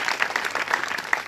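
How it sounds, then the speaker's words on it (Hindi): A crowd at a Holi festival gathering claps together in a brief, dense burst of applause, loud and close with many overlapping hands. "अपने लिए भी जोरदार तालियां एक बार फिर कृपा करके बजाएं।"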